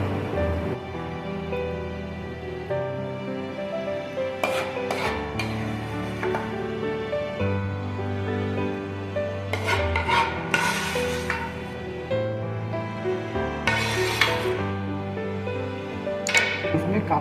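A spoon scrapes and rubs against a pan as vegetable navratna korma is emptied into a bowl, in repeated rasping strokes with soft clinks of cookware over a low background hum.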